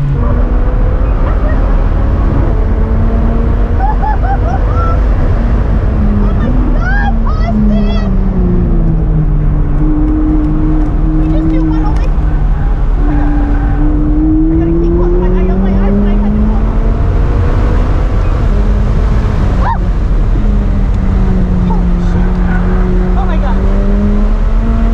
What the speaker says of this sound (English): It's a McLaren. It's a supercar.